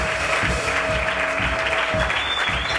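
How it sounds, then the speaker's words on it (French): A church congregation claps together in a steady, loud round of applause that carries evenly throughout, with no talk over it. "Acclame Jésus pour la vie"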